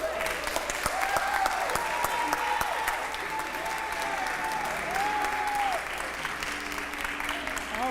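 Sustained crowd applause at an evening voter registration rally in Louisville, Kentucky, with dense clapping and some cheering and voices mixed in, loud and steady for the whole stretch.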